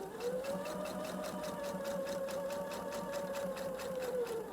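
A sewing machine running steadily along a straight center back topstitching seam, its motor whirring with a soft rising and falling hum and fast, regular needle ticks, quiet and close.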